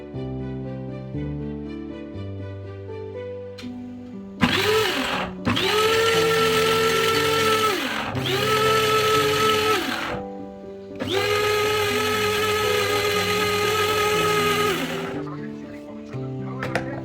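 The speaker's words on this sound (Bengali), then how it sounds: "এরপর আমি একটু রসুন পেস্ট করে দেখাচ্ছি।" Electric kitchen grinder blending garlic into paste, a loud whirring motor running in two long bursts separated by a short pause, with a high pitched whine over a rumbling base, and soft instrumental music beneath.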